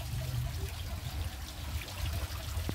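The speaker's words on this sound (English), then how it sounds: "Make sure the water is completely emptied out" Water trickles and drains steadily out of a gas-powered water pump, a soft, continuous low splashing and gurgling close by, with no talking.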